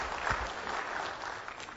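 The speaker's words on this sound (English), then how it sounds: "I think a round of applause for Megan for" Applause from a conference audience at a game developers' talk, a steady dense wash of clapping filling the short moment without speech.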